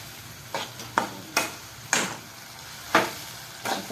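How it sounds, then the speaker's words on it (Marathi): Egg bhurji with red chilli, Kolhapuri masala and turmeric sizzles in a pan, with a low steady frying hiss broken by about seven sharp scraping stirs at an uneven pace, close by and without speech. "1-5 मिनटं असं परतून घ्यायचं."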